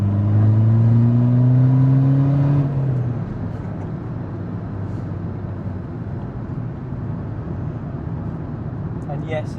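A tuned Skoda Fabia vRS with a 1.9 TDI PD diesel engine pulls hard, its engine note rising loud and close before dropping into a steady road and cabin rumble.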